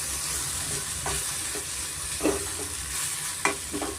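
Fried bitter gourd is stirred into a gojju in a pan, a steady sizzle under scattered scraping and tapping strokes of the spoon, close and moderately loud.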